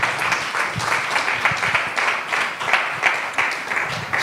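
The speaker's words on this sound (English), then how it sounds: "Let's give her a round of applause." An audience applauds steadily, a dense patter of many hands clapping at moderate loudness with slight pulsing swells and no talk over it.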